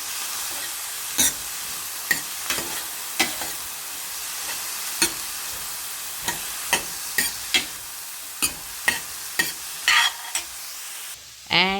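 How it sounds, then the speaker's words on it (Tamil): Vegetables, including carrots, peas and sweet corn, sizzle steadily in a hot pan, broken by a series of sharp scraping stirs at irregular intervals, close and clear. "இதையும் வந்து நம்ம கொஞ்சம் நல்லா வதக்கிக்கலாம்"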